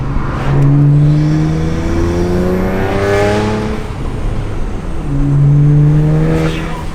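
A loud BMW 335i engine with an aftermarket intake revs up through second gear, its pitch climbing steadily, dropping at the shift, then rising again with a raspy exhaust note.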